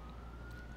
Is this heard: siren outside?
yes